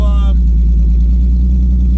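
A 12-valve VR6 engine drives on a snowy day with a steady low, loud rumble throughout, after a brief higher tone at the start; a voice is faintly present beneath it.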